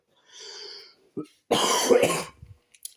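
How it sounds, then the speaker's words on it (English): A person coughs loudly, once short then one harsh drawn-out cough with throat clearing, preceded by a brief hum-like vocal sound in a quiet room. "Sorry, I was coughing."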